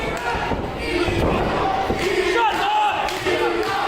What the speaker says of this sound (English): The fans are working up into a fever pitch here.